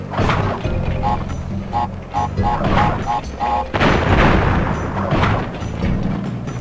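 TNT crates exploding in Crash Bandicoot, several loud booming blasts in quick succession amid game noise and a rising burst near the end, with someone talking over them.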